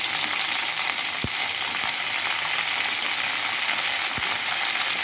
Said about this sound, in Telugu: తాలింపు గింజలు కూడా వేగినాయి కాబట్టి దోసకాయ ముక్కలు క్యారెట్ ముక్కలు వేసేస్తున్నాను